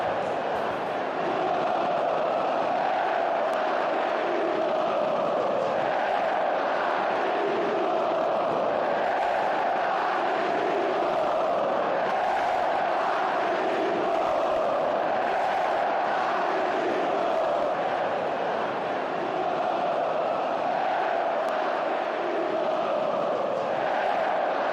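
Cruzeiro fans chant in unison at the Mineirão stadium, a huge sustained crowd song that swells and dips slightly but never stops, heard from within the stands.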